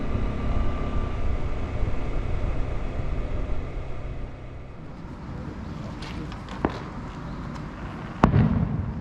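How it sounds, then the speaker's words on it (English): Daytime festival fireworks going off in Chichibu, Japan, heard as a few sharp distant bangs and cracks over a steady outdoor crowd rumble, with a louder burst near the end. "They have already started to shoot off like daytime fireworks."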